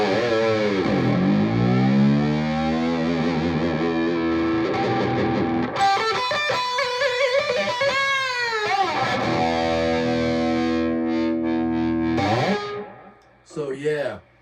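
Distorted electric guitar chords and riffs through Schecter Retro Hot 70 pickups, drenched in echo, a short slapback doubled with a longer trailing delay, ringing loud and continuous before fading near the end.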